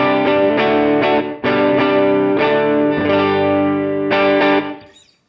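An electric guitar played through a simulated Vox AC30 2x12 amp with overdrive, heard alone as several strummed chords that ring out and then are restruck in a loose rhythm, thick and distorted, close and loud.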